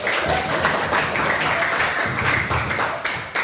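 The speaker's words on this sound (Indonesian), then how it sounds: "Berikan aplaus dong" An audience applauding in a classroom setting: a dense, continuous wash of clapping lasting several seconds, fairly loud and even throughout.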